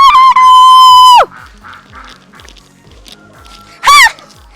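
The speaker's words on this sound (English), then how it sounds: "Hey, Mr. Rooster, no cockadoodle doos today." A rooster crows loudly and close by at an outdoor nature retreat, one long sustained call and then a short second burst, with quieter background sounds between them.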